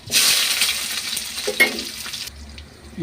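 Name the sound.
onions sautéing in oil in a kadai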